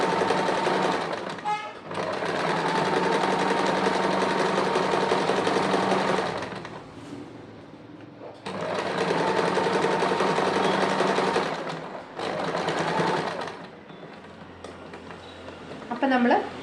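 A sewing machine stitches a sleeve in bursts, its steady rapid whirring running for several seconds, pausing, then resuming for shorter runs, loud and close with brief quiet gaps between.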